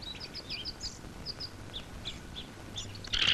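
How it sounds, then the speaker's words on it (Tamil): Sparrows flutter about, giving a steady scatter of thin, high chirps at moderate distance, with a brief louder rustle at the end. "என்னடா தலையில கூடு கட்டி குருவி எல்லாம் பறக்குது"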